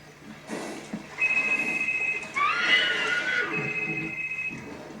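A horse whinnies in a therapy film being played back, its high wavering neigh rising and falling over a few seconds against background room noise.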